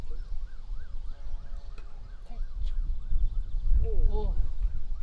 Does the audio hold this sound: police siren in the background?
yes